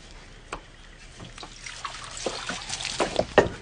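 Liquid is poured into cups at a table, heard as intermittent trickles and splashes. They start sparse and faint, then grow busier and louder toward the end, with no talking.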